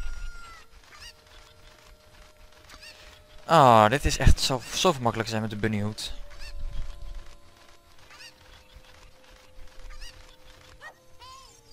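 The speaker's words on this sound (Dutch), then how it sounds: "Wacht even, hier zit ook nog wel een kip." A cucco chicken in the video game The Legend of Zelda: Ocarina of Time gives a loud burst of squawking, honking clucks lasting a couple of seconds, rising over background game music while someone talks before and after.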